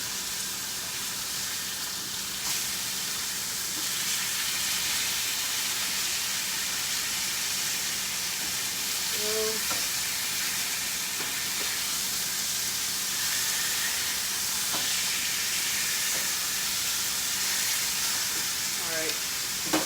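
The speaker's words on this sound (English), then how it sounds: "We're gonna let that finish frying up" White meat for Greek-style tacos fries in a pan with a steady, close sizzle and hiss that runs unbroken, with a few faint clinks over it.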